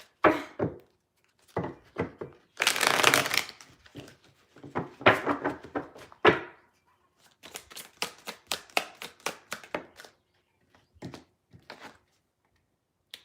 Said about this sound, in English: Oh, my shuffling's up.